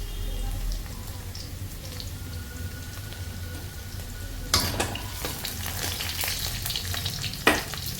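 Onions fry on lowered gas in a pan for an Assamese-style dish, giving a soft, steady sizzle with a couple of sharper stirring clatters.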